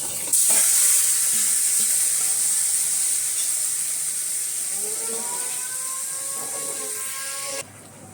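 Steady loud sizzling of chicken frying in oil in a hot pan for a chicken and potato curry, with occasional stirring scrapes and a faint squeak near the end; no talking.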